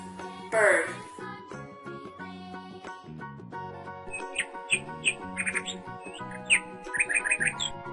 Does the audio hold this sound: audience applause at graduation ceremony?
no